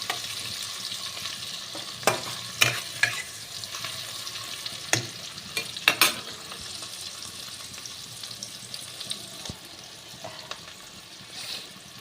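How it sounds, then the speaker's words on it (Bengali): Chopped onions fry and sizzle in a pan while being stirred, a soft continuous hiss broken by repeated scraping clinks of the spoon, fairly quiet and with no voices. "পেঁয়াজটাকে ভাজা ভাজা করব।"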